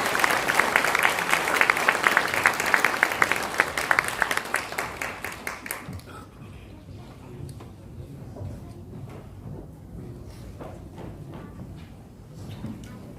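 Congregation applause at a church ordination and installation service for elders, deacons and deaconesses, dense and loud for about six seconds before dying away into a quieter room.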